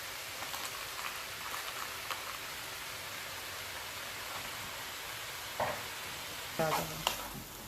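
Wild boar with holy basil sizzles in a pan during a stir-fry, a steady frying hiss broken by a few louder scrapes and stirring clatters toward the end.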